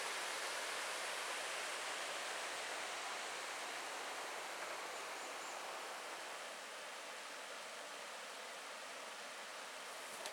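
River water flowing along the North Country Trail in the Porcupine Mountains, a steady broadband rush that holds unchanged and moderately loud for the whole stretch with no voices over it.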